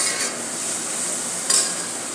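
Ginger, garlic and green chilli paste sautés in a hot pan with a continuous bright sizzle, and a brief stirring scrape comes near the middle, close up with no voices.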